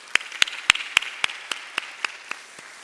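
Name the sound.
applause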